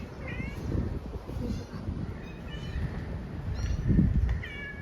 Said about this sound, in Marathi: तुम्हाला मांजरीची पिल्लं दाखवते